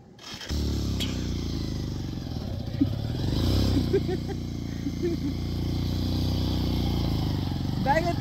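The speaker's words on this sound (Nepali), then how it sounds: "बाइकले तान्न छोड्यो यार" A motorcycle engine labours and loses pulling power on a hard mountain road trip in Nepal. It drones close and steady with a deep, continuous rumble, and a voice speaks over it.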